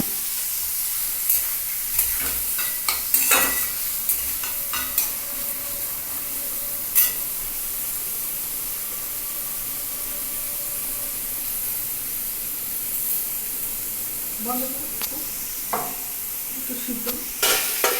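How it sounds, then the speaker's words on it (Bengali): Scrambled egg with capsicum is stirred into cooked rice for fried rice in a pan on a switched-off stove, with a soft hiss and repeated close scraping and clinking of the spoon, no voices. "এই ভাতের সাথে এটার মধ্যে মিশিয়ে দিচ্ছি ঢেলে দিচ্ছি"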